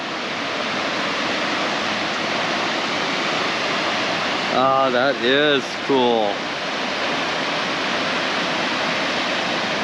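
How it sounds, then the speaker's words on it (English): A waterfall in Oregon sends up a steady, full rushing roar that fills the whole scene, while a person briefly exclaims over it partway through. "I could hear the noise, but I didn't expect that much water to be coming out of there"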